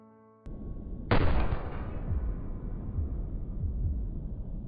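Single rifle shot fired through a 4x scope in PUBG (PlayerUnknown's Battlegrounds), a sharp loud crack followed by a long rumbling echo tail that fades slowly, no voices.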